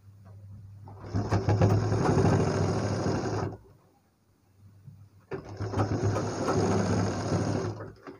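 A sewing machine stitching a blouse runs in two bursts of rapid, steady mechanical whirring and clatter, separated by a brief near-silent pause, close and fairly loud.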